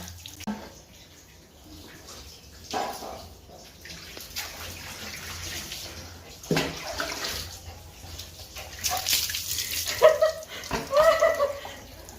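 A Labrador dog is showered with water indoors, with faint splashing and dripping against a quiet background, growing slightly louder toward the end with a few brief thin squeaks.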